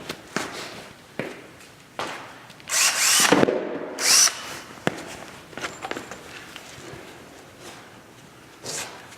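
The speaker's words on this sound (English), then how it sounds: "Ready to start drilling the holes" Short bursts of a power drill with a 3/16 bit whirring while drilling rivet holes for air vents, several seconds apart, mixed with clicks, handling noises and shuffling steps nearby.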